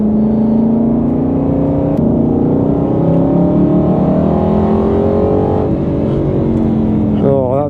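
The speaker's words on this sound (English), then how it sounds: "Oh, that V8 sounds good." A deep Aston Martin Vantage V8 engine revs loudly and steadily on the Brands Hatch track, its rumbling pitch rising and falling over several seconds, with a voice briefly audible near the end.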